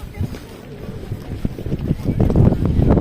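Gusty wind rumbles and buffets the microphone, growing stronger toward the end, with people talking underneath.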